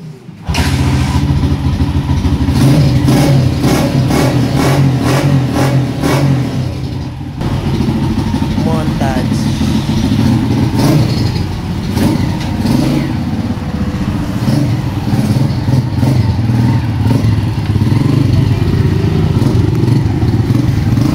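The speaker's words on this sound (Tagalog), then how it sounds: "nilagyan na natin ito ng gasolina para naman matesting na natin kung aandar pa" A restored Honda TMX 155 motorcycle engine fires up after refuelling and runs loud and close, idling with a rough steady thrum and occasional revs throughout.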